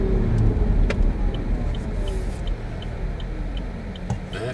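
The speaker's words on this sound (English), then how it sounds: "we are now braking on the motor" A Chevy Bolt electric car slows under regenerative motor braking, a steady road rumble and tire noise with a faint falling whine, fairly loud and continuous with no talking.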